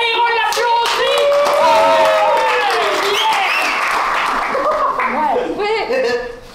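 Improv theatre audience applauding with laughter and cheers, a loud, sustained burst of clapping that fades out at the end, with people talking over it.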